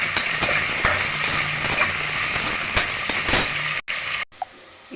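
Two large onions sliced lengthwise, frying in a pan until golden for egg biryani, a steady close crackling sizzle with occasional stirring scrapes, briefly cutting out near the end.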